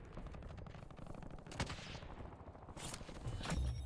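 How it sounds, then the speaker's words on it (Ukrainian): Rapid bursts of automatic SMG gunfire in Call of Duty: Warzone rattle continuously at moderate distance, with a few louder sharp shots standing out over the steady crackle. "ще стріляють, ще стріляють, ще стріляють"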